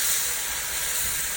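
Spinach and onion hiss steadily in a hot pan during a final stir, a dense, continuous sizzle close up with no talking.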